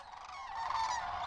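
Sandhill cranes calling during migration in Nebraska, a dense chorus of rolling, trumpeting calls from a large flock, steady and moderately distant with no talking.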